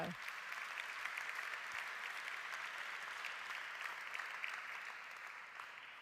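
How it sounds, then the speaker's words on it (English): Audience applause at a hospitality awards ceremony, a steady, dense wash of clapping sustained throughout at moderate distance, fading slightly toward the end. "On les applaudit une dernière fois."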